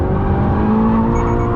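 A Subaru BRZ sliding on a skid pan, its engine holding a loud, steady droning whine with a rising tonal note, close and continuous, no voices.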